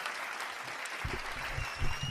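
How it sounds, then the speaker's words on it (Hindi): An assembly hall audience gives sustained applause after a poetry recital about the Kashmir massacre. The clapping is dense but fairly distant, with a few low thumps mixed in. "एक बार पूरा सदन हाथ उठाकर प्रख्यात के लिए तालियां बजा दे।"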